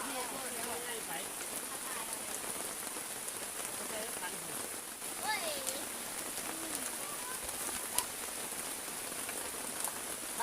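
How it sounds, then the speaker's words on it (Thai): Rain falls outdoors by a stream, a steady close hiss of drops across the whole clip. Faint bird calls chirp now and then over it, and a voice speaks softly in the background. "บรรยากาศก็ดีฝนจะกำลังตก"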